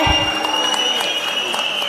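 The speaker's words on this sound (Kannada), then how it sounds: "ಮತ್ತೊಮ್ಮೆ ಜೋರಾದ ಚಪ್ಪಾಳೆ" Crowd at a political party rally applauding, a dense wash of clapping and cheering that carries steadily for the full moment, loud and close, with a faint tonal ring from the sound system above it.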